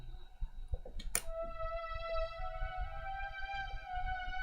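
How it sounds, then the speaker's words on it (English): A beat of dark violin strings runs through a vintage chorus plugin, its sustained notes sounding wide and wavy. It plays quietly, with a single sharp click early on. "Now with the vintage chorus."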